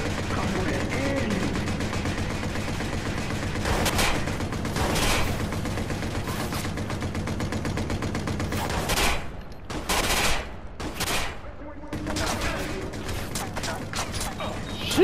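Sniper and automatic gunfire in the video game Watch Dogs, with repeated loud cracks and bursts over a dense, busy game soundscape, briefly thinning out midway before resuming.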